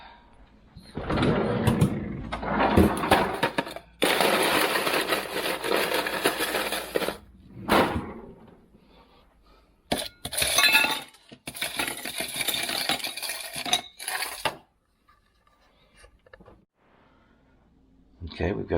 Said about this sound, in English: Get this loaded up with ice.